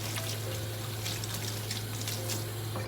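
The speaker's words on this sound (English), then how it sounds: "just wash our hands" Tap water runs steadily from a faucet while hands are washed in a home kitchen, a continuous close hissing trickle with faint splashes and no talking.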